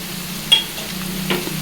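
Ginger-garlic paste frying in a pan for a Telangana-style bitter gourd fry, giving a soft steady sizzle with a single light clink of a stirring utensil.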